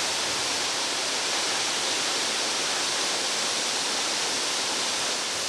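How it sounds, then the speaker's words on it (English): Magnificent jungle waterfall in Belize roars as a dense, steady rush of falling water, loud and close, unbroken for the whole stretch with no voices. "There's many places like this magnificent waterfall that are undiscovered by most people."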